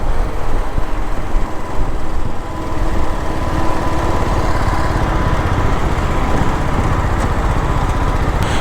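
BMW G310 GS motorcycle engine running steadily nearby, a loud, continuous buzzing drone with rough low rumble and no pauses.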